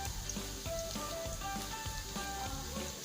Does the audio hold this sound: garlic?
yes